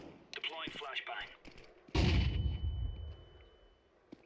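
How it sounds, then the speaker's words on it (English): A flashbang grenade goes off in Counter-Strike 2 as one sharp, loud blast followed by a high ringing tone that slowly fades. Game voice callouts and gunshots come just before it. "Deploying flashbang."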